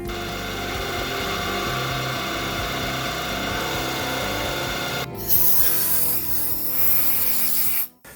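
Steady broadband whir and hiss of metal being machined as the final valve bucket bore is cut into a scratch-built 150cc engine, running evenly before an abrupt shift to brighter, harsher cutting noise that stops near the end.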